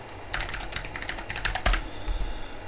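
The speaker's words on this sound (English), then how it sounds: "we're going to type" Quick bursts of keystrokes on a computer keyboard, a short run of close, crisp clicks lasting a couple of seconds with no talking.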